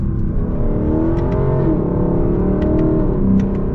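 A 2021 Lexus LC 500 engine revs hard from inside the car, a loud continuous roar with rising pitch and a slight dip, filling the cabin with no talking.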